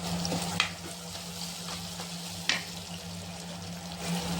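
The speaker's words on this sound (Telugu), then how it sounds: "మనం దంచి పెట్టుకున్న పచ్చిమిర్చిని నలిపి ఇలా వేస్తున్నాను ఫ్రెండ్స్" Crushed green chillies sizzling in a hot pan for a Telugu cauliflower and egg fry, a soft steady fry under low hum with two brief sharp clinks of a spoon against the pan.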